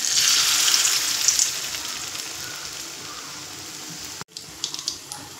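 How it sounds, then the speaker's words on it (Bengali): Papaya fritters fry in refined oil with a steady, loud hissing sizzle that fills the clip, broken by a brief clatter near the end before the quieter frying resumes. "দেখুন বড়াগুলো এক পিঠ আমার ভাজা হয়ে গেছে।"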